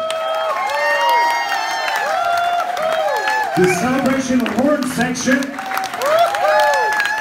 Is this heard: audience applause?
yes